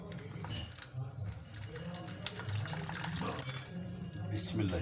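Tamarind water poured into a fish marinade in a home kitchen, a soft liquid splashing and trickling that runs for several seconds at close range with faint background clatter.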